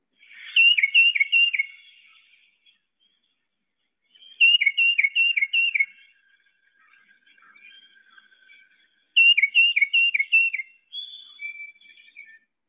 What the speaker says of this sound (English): So the tufted titmouse has this very iconic sounding song